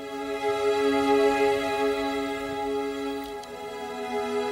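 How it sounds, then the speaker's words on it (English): A sustained string pad synth from an EDM cover plays on its own, holding a steady chord with a soft, even swell and no other instruments. "So the string pad by itself sounds like this."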